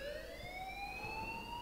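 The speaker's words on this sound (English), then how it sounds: "please turn off that alarm since that's your job" An alarm ringing in the video game Life is Strange, a steady electronic siren tone that slowly rises in pitch throughout, fairly quiet and alone, with no talk.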